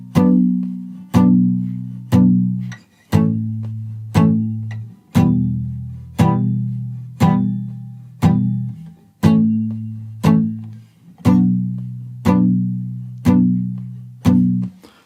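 Guitar in standard tuning playing the verse of a song, with steady strummed chords about once a second, each ringing and decaying before the next, close and clear with no talking.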